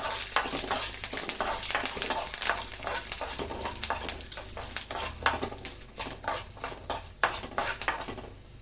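Cumin, curry leaves and dried chillies tempering in hot oil for a hotel-style chutney, a crackling sizzle with sharp pops and spoon scrapes against the pan, close and fairly loud, without talk.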